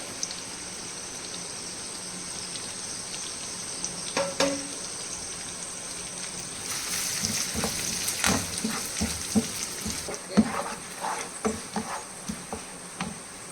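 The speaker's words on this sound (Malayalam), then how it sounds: "ഇഞ്ചി, വെളുത്തുള്ളി, കറിവേപ്പില, പച്ചമുളക് എല്ലാം ഇടുക. അതുപോലെ തന്നെ വഴറ്റുക." Ginger, garlic, curry leaves and green chillies sautéing for fish pickle, a soft sizzle that grows busier partway through, with scattered spoon taps and scrapes, no talking.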